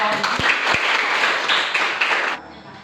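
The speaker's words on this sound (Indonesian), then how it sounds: "tepuk tangan untuk kelompok" Steady applause from a classroom of students clapping for a presenting group, dense and continuous for a couple of seconds before cutting off abruptly.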